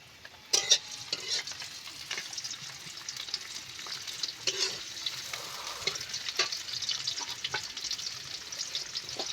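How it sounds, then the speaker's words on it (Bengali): Onion frying in hot oil in a home kitchen, a steady bright sizzle with occasional louder pops and stirring scrapes, close and continuous with no talk. "তেল গরম হয়ে গেছে, এবার আমি পেঁয়াজটা দিয়ে দেবো"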